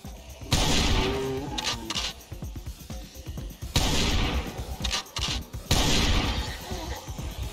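Gunfire in Project Zomboid comes in three loud bursts a couple of seconds apart, each a sharp blast followed by crackling echoes and clattering.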